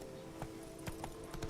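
Horse Roach galloping in The Witcher 3, giving several irregular hoof clops against a steady game backdrop, moderately loud.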